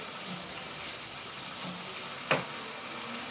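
Food fries in butter in a pan with a continuous close sizzle, while a single short scrape of stirring stands out partway through.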